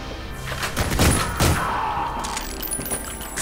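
Gunfire in the video game Ion Fury, a few sharp cracks and thumps clustered near the middle over game background sound, loud and close.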